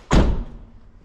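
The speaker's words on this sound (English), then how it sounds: "Close the doors." A single solid Lincoln car door thud, close and heavy, with a short low rumble fading after the slam.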